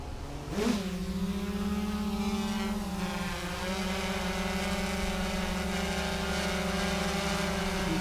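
A GoPro Karma drone lifts off and hovers in sunny, windless weather, its rotors giving a loud, steady buzzing whine that rises in pitch at takeoff and then holds level with no talk.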